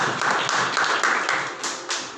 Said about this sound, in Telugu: ఒకసారి వారి కుటుంబాన్ని చప్పట్లు కొట్టి ఆహ్వానిద్దాం